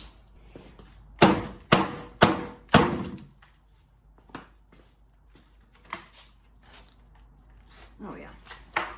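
Precut exterior door jamb pieces are snapped apart by hand, four loud wooden thunks and cracks in quick succession up close, then lighter knocks and shuffling as the pieces are handled.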